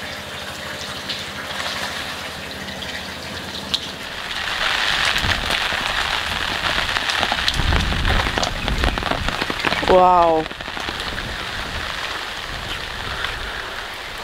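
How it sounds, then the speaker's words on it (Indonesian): Heavy morning rain pours steadily onto surfaces, a dense continuous hiss close by throughout, with someone speaking briefly over it. "But suasana lagi hujan banget sekarang."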